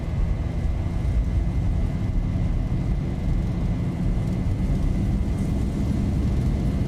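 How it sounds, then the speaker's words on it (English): Jet engines of a Boeing 737, the freeware Zibo model in a flight simulator, at takeoff thrust: a steady, loud, broad roar with a constant whine, heard alone without talk. "Oh yeah, beautiful sounds in this freeware Zibo 737."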